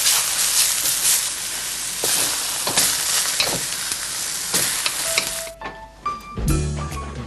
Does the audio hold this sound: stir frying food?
yes